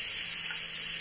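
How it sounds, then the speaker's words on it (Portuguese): Water from a shower sprays against a wall in a steady, loud hissing rush with no breaks. "Tá espirrando água ali pra parede, ó."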